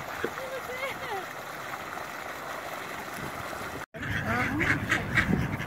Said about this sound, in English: Hey Val, know if there's any ducks around?